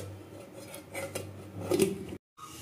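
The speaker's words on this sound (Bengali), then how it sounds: "এবার টিফিন বাটিটা বসিয়ে দেবো।" A steel tiffin box of hilsa in mustard being set onto a stand inside a pan of hot water for steaming: a few close metallic clinks and scrapes, then a brief silence.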